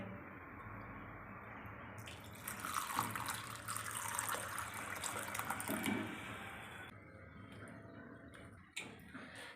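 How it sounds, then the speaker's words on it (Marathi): Water runs and splashes as split chickpeas (chana dal) are rinsed by hand, a swishing wash starting after a quiet moment and stopping near the end. "ते आपण स्वच्छ तीन पाण्याने धुवून घेऊया"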